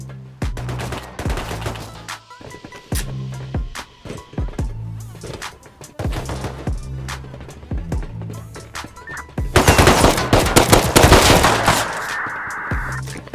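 Gunfire in the Rust survival game rings out as loud, sharp single shots and short bursts spaced irregularly, building into a denser, noisier flurry near the end.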